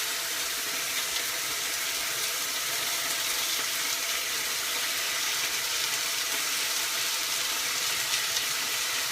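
Pieces of beef searing in a hot pan for vinen kebap, a continuous close, even sizzle and crackle of frying with no talk over it.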